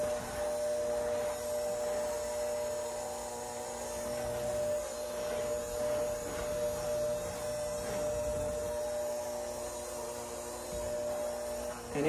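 An electric stand mixer churns a thick, chewy coconut cookie dough, giving a continuous strained motor hum with a steady tone and slight labouring swells throughout.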